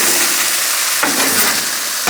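Cheesesteak meat and melted cheese sizzling on a Blackstone griddle, a steady broadband hiss with a brief scrape partway through as the food is moved across the hot surface.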